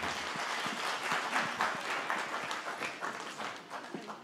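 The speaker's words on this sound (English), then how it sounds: "Let's give him another round of applause." Audience applause at a corporate sustainability report launch, a fairly quiet, sustained clatter of clapping with a few sharper individual claps, tapering off near the end.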